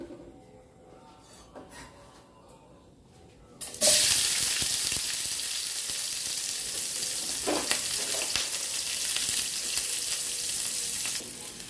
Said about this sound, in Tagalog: Igisa natin ang onion at garlic.